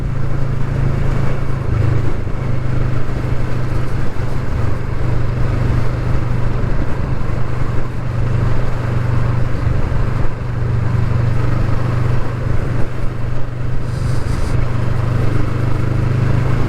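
A 2020 Kawasaki Vulcan S motorcycle cruising in sixth gear at around 40 mph, with a steady, low engine drone and constant road and wind rush that never lets up.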